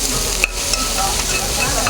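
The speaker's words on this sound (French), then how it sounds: "Là, nous incorporons nos oignons hachés finement." Finely chopped onions sauté in hot oil, a steady close sizzle with light stirring scrapes running throughout, no voices.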